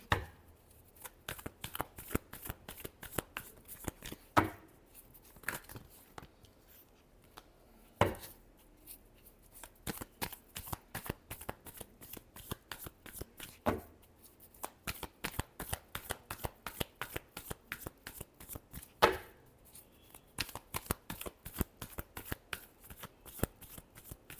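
Tarot cards are shuffled over and over in quick riffling bursts, a dense patter of soft slaps broken by short pauses, close and fairly quiet with no one speaking.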